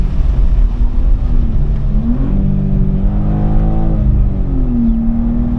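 A 2023 BMW M2 G87 accelerating hard on a track day, loud onboard engine note climbing in pitch, then an upshift and another rising pull, with no talk over it.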